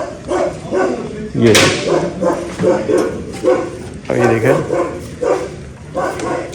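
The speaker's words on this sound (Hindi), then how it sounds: "ये देखिए कुत्ता भी ना गुस्सा किए जा रहा है" An angry dog barks in repeated harsh bursts close by, mixed in with people talking over it throughout.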